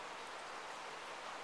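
Rain falling steadily outdoors, a dense even hiss of drops on surfaces, continuous and moderately loud with no talk over it.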